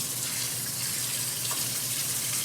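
Tap water runs steadily into a kitchen sink while dishes are washed up with detergent, a continuous close hiss and splash that holds level throughout with no talking.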